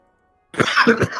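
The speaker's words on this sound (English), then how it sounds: "Now I'll start coughing." A sudden burst of several harsh coughs close to the listener after a moment of silence.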